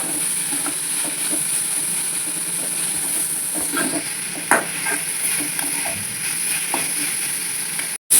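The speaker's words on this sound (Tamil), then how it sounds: "பெருங்காயம் போட்டு வதக்கிட்ட பிறகு" Asafoetida sautéing in hot oil for a sambar, a steady close frying hiss with light crackles and a few sharper pops, no voices.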